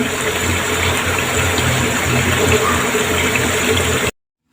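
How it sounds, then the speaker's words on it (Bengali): Water poured into a pot of braised beef with papaya, a loud, steady gushing rush that runs for about four seconds and then cuts off abruptly. "আমার মাংস কষানো হয়ে গেছে। এখন পানি দিয়ে দিব।"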